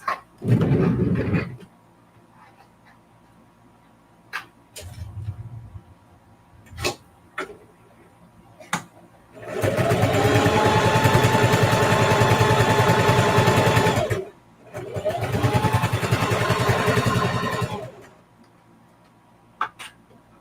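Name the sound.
sewing machine quilting a zipper pouch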